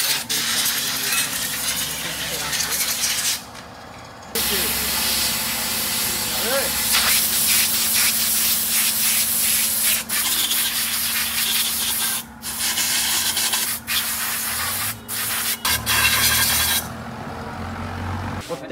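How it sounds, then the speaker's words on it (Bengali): Motorcycle fork parts from an RTR 150 being washed in kerosene, a continuous close scrubbing and splashing hiss with brief pauses, under a steady low hum. "প্রত্যেকটা পার্টস সুন্দর করে আমরা কেরোসিন দিয়ে ধুয়ে নিছি"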